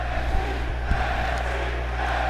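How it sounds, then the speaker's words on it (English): Wrestling crowd at an NXT event roaring steadily as a wrestler makes his entrance, a dense sustained wall of arena noise with a few louder swells and no one speaking over it. "The crowd's loving it here, as Karrion Kross now, one of the creepiest"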